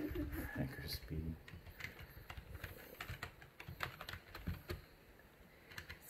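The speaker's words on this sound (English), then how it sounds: "Don't talk while you're typing, Dan." Someone types on a computer keyboard with steady, irregular clicks close by, quiet overall, while people talk over the keystrokes.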